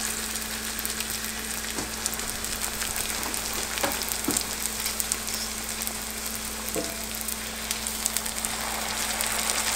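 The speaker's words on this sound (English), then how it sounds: "And then fry it, medium to high heat." A Belizean panade frying in a skillet over medium to high heat, giving a steady, even sizzle with occasional small pops and crackles throughout, no talking over it.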